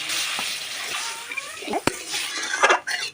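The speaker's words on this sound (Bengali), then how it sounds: "এবার আমি জল দেব।" Water is poured into a hot pan of masala fish curry, giving a broad, close rushing sizzle with a few utensil clinks and a splashy swell near the end.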